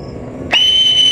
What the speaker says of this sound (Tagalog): Sipol yan, sipol yan.